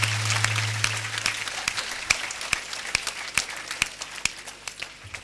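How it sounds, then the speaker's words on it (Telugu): Church congregation at a Good Friday service applauding two priests, a dense steady round of clapping from many hands that thins toward the end, with a low hum beneath. "చప్పట్లు కొట్టండి"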